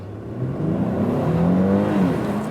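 Engine of a Mercedes C400 Coupé pulling hard in Sport Plus mode, a steady rising drone climbing in pitch through the gears, loud and close from inside the car, with no talk.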